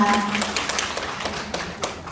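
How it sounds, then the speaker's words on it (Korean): Applause from an audience at a committee advisor appointment ceremony in Cheongju, a steady patter of claps that fades gradually over about two seconds. "큰 박수 부탁드립니다"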